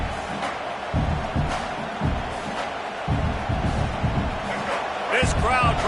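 Roaring American football stadium crowd noise, a dense continuous wall of cheering and yelling at steady loudness, with broadcast commentary talking over it.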